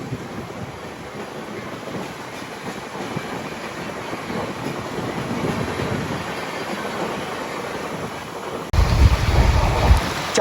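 Guntur Rayagada Express rolling slowly along the track, a steady low rumble of wheels and carriage noise with wind rushing throughout, swelling louder near the end.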